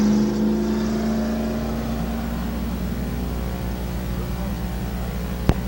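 Race cars roar around the track at Midvale Speedway, a steady loud engine drone with a long humming tone that fades slightly over the seconds, a brief sharp click near the end, and no talk.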